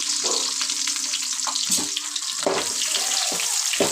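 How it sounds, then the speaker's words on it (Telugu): Chopped onions dropped into hot oil in a home kitchen pan for chicken curry, giving a steady, close hiss of frying with a few clinks and bumps, no talking. "ఆయిల్ వేడైంది ఉల్లిగడ్డ వేస్తున్నాం"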